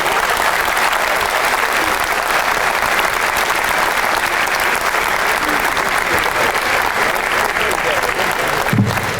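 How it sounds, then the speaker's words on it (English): Large banquet crowd at an Athletics Hall of Fame induction giving sustained loud applause for the inductee class, a dense continuous roar of clapping that stays level throughout. "One more round of applause for the entire Sports Hall of Fame class."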